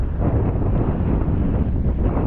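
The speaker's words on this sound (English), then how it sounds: "It's a bit windy." Wind gusts buffet the microphone out in an open field during rainy weather while metal detecting for coins, a steady low rumbling roar with no other sounds.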